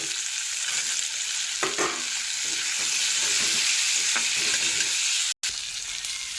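Ginger, garlic, green chili and eggplant fry in a pan on a gas stove, giving a continuous close sizzle with a few soft stirring scrapes and a brief dropout near the end.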